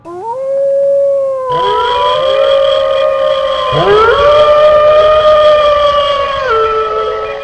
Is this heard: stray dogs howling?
yes